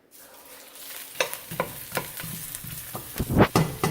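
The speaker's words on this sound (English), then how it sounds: "I'm going to go ahead and add my onions in here." Onions sautéing in about two tablespoons of hot vegetable oil for quinoa jollof rice sizzle up after a brief hush, with repeated close scraping and clattering stirs building to a louder burst near the end; no one speaks.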